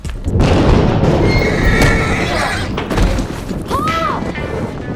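Horse neighing loudly and close over a rumbling, thudding background, with a rising and falling whinny near the end of a dense, noisy passage.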